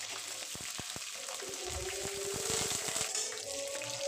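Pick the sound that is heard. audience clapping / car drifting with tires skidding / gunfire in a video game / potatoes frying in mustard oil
potatoes frying in mustard oil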